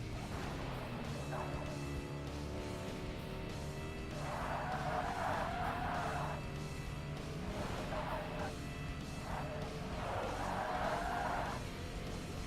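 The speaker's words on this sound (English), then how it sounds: "the Buick GNX in this game sounds exactly like it does in real life" Buick GNX engine in the Forza Motorsport racing game, a steady droning rumble with periodic rising pitch swells as it revs through gears, continuous and mid-distance, with faint talk underneath.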